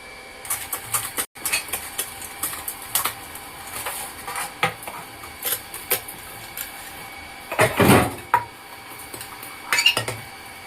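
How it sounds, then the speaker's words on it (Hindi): Dishes, pots and cutlery are washed in a full kitchen sink, with frequent close clinks and clatters of metal and crockery and a louder scraping burst partway through, with no voices. "बर्तन धुल के अभी मिलती हूँ आप लोगों से।"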